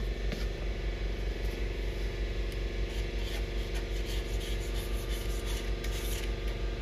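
Hand sanding on an arcade control panel, a steady close rubbing scrape that runs without pause under a constant background hum, no voices.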